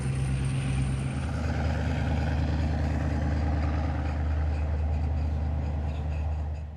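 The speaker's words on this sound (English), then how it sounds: "Hua Hin train station is making this noise at the moment. Here comes the train." A train approaching Hua Hin railway station in Thailand gives a continuous low rumble of engine and rolling, heard steady and moderately near at sunrise, with a brief whistle-like tone fading early.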